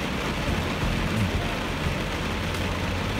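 Heavy rain pours down during a storm at a work site, a dense, steady hiss of downpour with no let-up, close and loud throughout.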